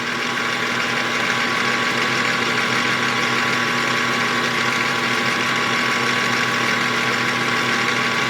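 A small homemade steam engine runs steadily at close range, giving a continuous mechanical hum and whir with a faint whine, even and unbroken throughout with no talk.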